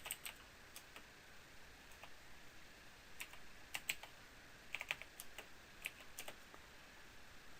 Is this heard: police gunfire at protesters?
no